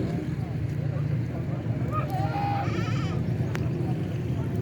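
Goats bleat a few times at a busy livestock market where two goats are bought, the calls rising briefly above a constant murmur of crowd voices and background bustle.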